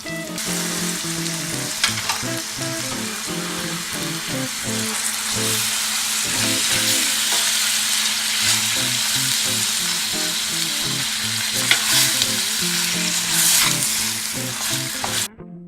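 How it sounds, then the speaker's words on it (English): Pork liver sizzling and frying in a pan for a Filipino pork menudo, a steady loud crackle with occasional stirring clatter and no speech. "In pan, we're gonna add in our liver. Just gonna fry it a little bit until it"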